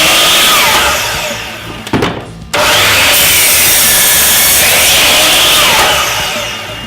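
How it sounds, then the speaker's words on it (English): A chop saw cuts a mitre through timber in a workshop, a loud continuous whining rasp that breaks off briefly near the two-second mark and then resumes at full strength, with no voices. "Chop saw that cuts miters."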